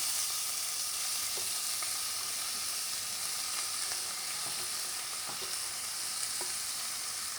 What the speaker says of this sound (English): I'm gonna add the carrots, the onion, the celery to the pan, right here.